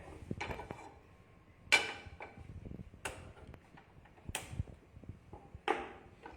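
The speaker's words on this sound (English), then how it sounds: "Right now I am going to use a non-stick pan." A non-stick pan is handled on a kitchen stove, giving a series of sharp metallic clanks and knocks roughly every second or so, close and fairly quiet, with faint rattles between them and no talking.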